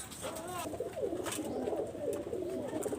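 Kamagar red-eyed pigeons coo in soft, warbling rolls over a steady background hiss, several overlapping calls rising and falling at moderate distance.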